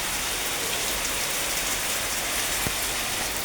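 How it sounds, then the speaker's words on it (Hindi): Rain falling steadily at a home, a dense even hiss of drops with one brief sharp tap near the end, no voices. "हो जाए यार बारिश थोड़ी तेजी से"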